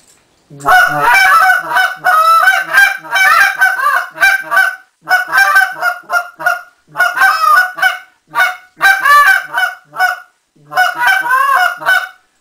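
Goose call blown to imitate live geese feeding in a field during late-season goose hunting, loud rapid bursts of honks and clucks in repeated rhythmic runs separated by short pauses.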